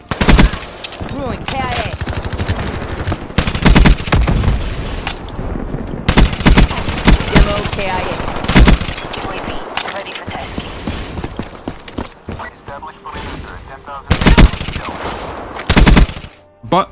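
Call of Duty Black Ops 3 gunfire rattles in loud automatic bursts separated by short gaps. An in-game voice delivers callouts between and over the shooting.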